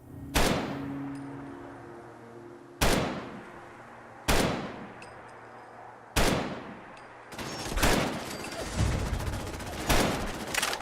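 Gunfire in Fallout 4, aimed at a vehicle's tires: five sharp, loud shots spaced a couple of seconds apart, each with a decaying tail, then a quicker cluster of overlapping shots and impacts near the end.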